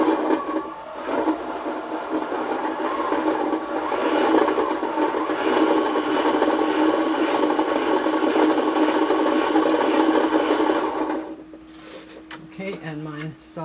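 A sewing machine stitching thread for a paper towel ribbon runs in a continuous close, whirring buzz for about ten seconds, then stops, leaving quiet handling clicks.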